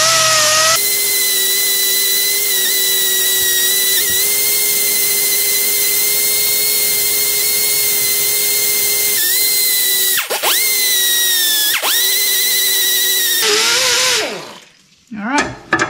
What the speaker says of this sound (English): I'm going to use my little die grinder, whizzy wheel, whatever you want to call it.